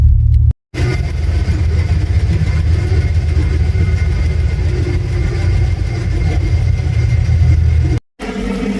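A bus engine drives up to a bus museum depot, with a steady, loud, close rumble that runs continuously. It breaks off briefly near the start and again near the end.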